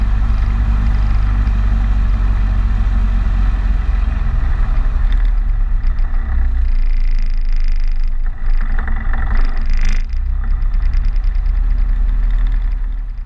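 Steady low drone of a 1936 Hornet aircraft engine during its run-up, loud and continuous with a slight swell in revving partway through.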